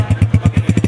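A Honda 125 motorcycle fitted with a silver silencer idles up close, its single-cylinder engine thumping in a loud, even, rapid beat.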